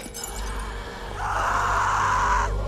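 A woman screams in The Walking Dead video game, a sustained, rising wail that grows louder partway through and continues over low background ambience, heard nearby.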